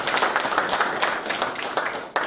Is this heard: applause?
yes